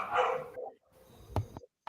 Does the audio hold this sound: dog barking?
yes